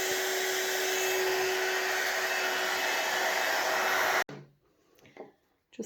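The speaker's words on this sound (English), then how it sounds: "I'm just going to come in with my heat tool here and dry that" A heat tool blows loud and steady while drying ink on yupo paper for a handmade card, then cuts off abruptly, leaving a few faint handling noises.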